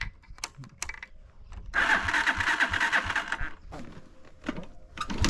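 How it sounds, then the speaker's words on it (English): Motorbike on a Kenyan highway, hard to start in the morning, cranks and catches into a loud, rough engine burst that runs for a couple of seconds before dropping off, with faint clicks and handling noise around it. "it is always a problem with this bike every morning that when we want to move, it is always having some hard time to start"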